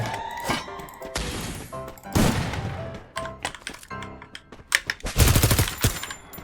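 Free Fire gunfire in rapid bursts, loud and close, with sharp automatic-weapon rattles recurring through the stretch and a heavy volley near the end, no talk over it.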